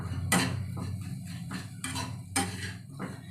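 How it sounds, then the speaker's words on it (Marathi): Utensils clatter and scrape against a pot as jaggery is stirred into the other ingredients, with several sharp metallic knocks at irregular intervals between steady scraping. "आता हे जे गूळ आहे मी हे सगळं ह्याच्यामध्ये टाकून मिक्स करून घेणार आहे"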